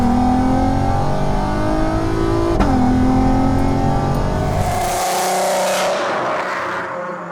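A tuned VW MK5 R32 with all-wheel drive accelerates hard, its loud close engine note climbing through a gear, then rising again before fading away.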